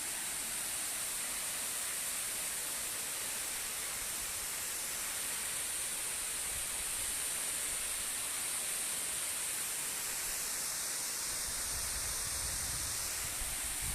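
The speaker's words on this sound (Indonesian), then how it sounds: "di bawah air terjun. Suara air akan menjadi sound effect daripada lagu-lagu yang kita bawakan" A waterfall near the village of Sosordolok on Samosir island pours in a steady, dense roar of falling water that fills the whole stretch without pause.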